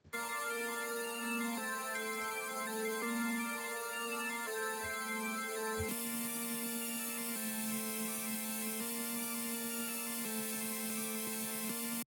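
Grungy hyperpop synths from Serum preset banks play sustained, buzzy chord tones one after another, each sound held for a couple of seconds with steady loudness and no voices.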